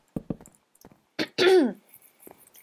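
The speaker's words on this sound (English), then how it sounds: "oh, my cough" A man coughs and clears his throat, a few short dry bursts followed by one louder, harsher cough close to the microphone.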